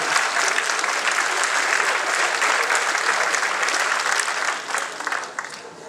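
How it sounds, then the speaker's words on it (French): A live audience claps in a dense, steady burst of applause that holds strong throughout, then thins out and eases off in the final second. "vous pouvez applaudir"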